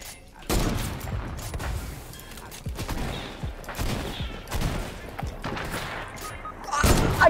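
Rockets explode in the video game Fortnite, a series of loud, close, booming blasts in quick succession with heavy rumbling tails, ending in a bigger burst.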